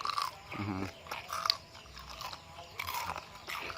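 Close, loud bites and crunching chews on crispy homemade pork belly come in irregular bursts separated by brief quiet moments, with no talking.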